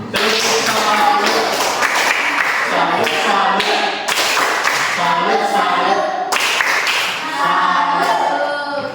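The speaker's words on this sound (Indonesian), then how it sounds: "Kita berikan tepuk tangan untuk teman kalian si Nadine." Schoolchildren in a classroom clap for a classmate who has just read a short story aloud, a loud, sustained and uneven round of hand claps that continues throughout.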